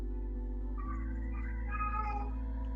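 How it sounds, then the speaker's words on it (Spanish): A cat meows a few times, faint and distant, over a steady electrical hum in an indoor online class setting. "Se escucha un gato."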